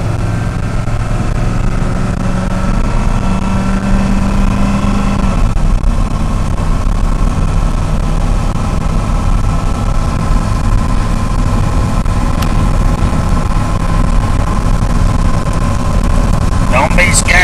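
A 1985 Ford F-250 pickup's diesel engine rumbles loudly and continuously at close range, a steady low drone with slight surges, and a voice speaks briefly over it.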